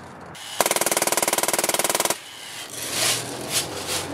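A Drozd Blackbird BB gun fires a rapid full-auto burst at 1,200 rounds per minute, about twenty evenly spaced sharp shots over a second and a half, then quieter outdoor rustle and faint impacts follow.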